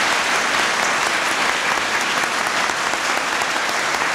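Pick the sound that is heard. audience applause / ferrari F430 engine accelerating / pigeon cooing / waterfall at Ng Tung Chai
audience applause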